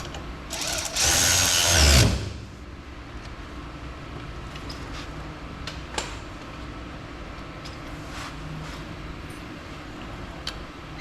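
Power tool tightening suspension bolts during a Mustang II front suspension install on a 1954 Bel Air, a single loud whirring burst of about a second, then quiet shop ambience with faint clicks.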